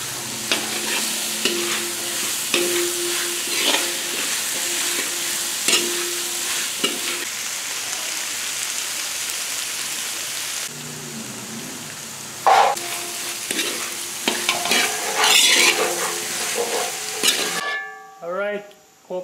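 Chana sizzles in masala in a pan while being stirred, a close crackling fry with repeated scraping strokes, a pause partway, then renewed stirring and clatter at the end.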